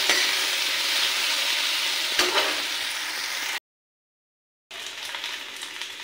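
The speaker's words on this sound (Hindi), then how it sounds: "सारे सोयाबीन को मैंने इसमें भून लिया है तेल में" Soybeans frying in mustard oil make a loud, close, continuous sizzle with one sharp clink partway through, then a sudden second of silence before the hiss resumes.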